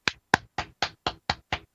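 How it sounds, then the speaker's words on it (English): A single person claps hands alone, eight sharp, evenly spaced claps at a steady rhythm, fairly close and moderately loud. "I'm the only one clapping here."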